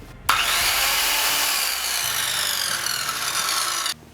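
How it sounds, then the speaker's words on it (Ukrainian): A Dnipro-M CS 185 M circular saw whirs steadily at close range, a loud continuous high-pitched hum that starts abruptly and cuts off after about four seconds. "Давайте разом послухаємо, як вона працює."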